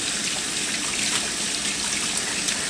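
Hot tap water runs steadily from a kitchen faucet while food is rinsed, a constant close splashing rush with no pauses.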